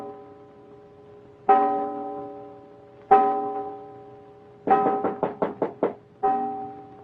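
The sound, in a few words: knocking on a door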